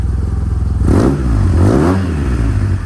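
A 2009 Yamaha TMAX scooter bored up to 560cc and fitted with a Malossi exhaust idles with a close, throbbing pulse, then blips its throttle twice in quick succession, the engine note swelling loud and falling back each time.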